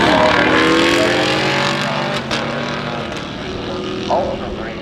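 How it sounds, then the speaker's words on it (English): Small block LS-powered drag racing car launching from the line at a drag strip, a loud, sustained engine roar that stays strong throughout, with a brief shift-like change midway and a higher revving burst near the end. "Coming to the line here now. Small block cars, LS motors."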